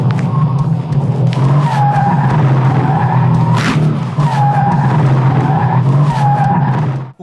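A rear-wheel-drive car skids as it accelerates through a curve, its tires squealing continuously and loudly over the engine drone, with the squeal rising and falling in waves.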